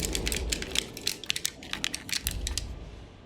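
Keys clatter on a computer keyboard in irregular clusters of sharp, close clicks, steady over a few seconds with no talking.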